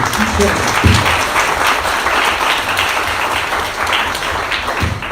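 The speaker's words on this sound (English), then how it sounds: "Let's give her a big round of applause" An audience breaks into steady applause at a meeting, a dense wash of clapping with voices talking and calling out over it.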